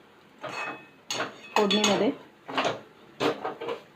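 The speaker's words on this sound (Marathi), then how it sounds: "आता पोहे आपण चांगले परतून घेऊया" Flattened rice being stirred and sautéed with green peas in a pan, heard as five short bursts of a utensil scraping and clinking against the metal, close and moderately loud.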